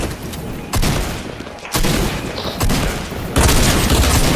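A few heavy gunshots boom in a video game shootout, each sharp blast followed by a ringing tail, spaced about a second apart and growing louder.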